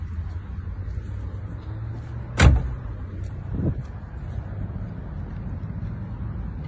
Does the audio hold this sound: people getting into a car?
yes